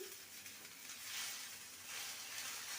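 Chopped green chillies fry in a pan over a low to medium gas flame, giving a faint, steady hiss of sizzling oil with no talk.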